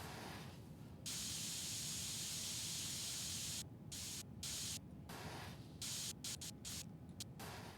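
Spray painting a PC case in the video game PC Building Simulator 2: a steady hissing spray that cuts out in short breaks and restarts, loud and alone.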